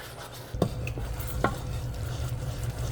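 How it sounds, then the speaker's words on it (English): A steady bubbling sizzle of caramel sauce at a rapid boil, with a couple of sharp clinks from a utensil against the pan. "Okay, it's at a rapid boil, so things are gonna start happening really fast."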